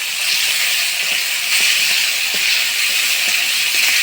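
Spice paste of ground chili, turmeric and salt sizzles loudly and steadily in a hot pan, a dense continuous hiss with faint scraping from stirring throughout.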